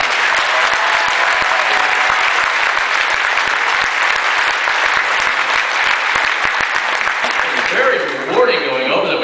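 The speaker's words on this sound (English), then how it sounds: "I think they deserve a big round of applause." Audience applause at a comedy show rings out as dense, sustained clapping from a crowd, loud and close and continuing for several seconds before it begins to thin near the end.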